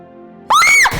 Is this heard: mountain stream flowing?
no